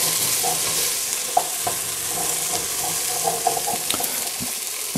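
Onions and Russian blue potatoes sizzle steadily in a pot while a utensil stirs and scrapes the bottom with occasional knocks, close up and alone.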